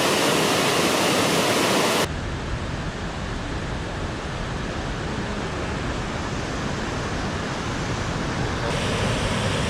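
Water from an underground river gushes out of a cave at the Rogue River natural bridges in Oregon, a steady, dense roar that fills the whole clip without a break.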